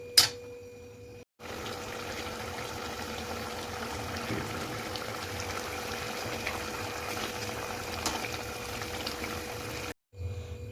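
Schezwan malai chicken gravy simmering in a pan, a steady low bubbling and sizzling that runs without a break for about nine seconds, close and fairly quiet, with no talking.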